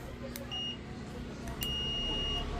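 Two faint electronic beeps from a multimeter continuity buzzer, a brief one followed by a longer tone, sound over a low steady background hum during an LED TV repair.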